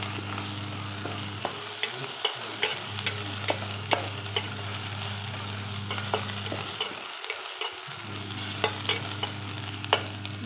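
Ginger garlic paste frying in a pan, giving a continuous close sizzle with light scattered stirring clicks and a steady low background hum.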